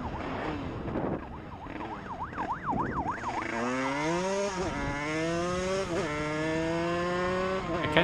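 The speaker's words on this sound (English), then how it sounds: "being chased by the police like this and hearing the siren" A wailing police siren cycles rapidly then shifts to a long rising-and-falling tone, loud and close, during a chase in Finland, with a vehicle engine roaring underneath.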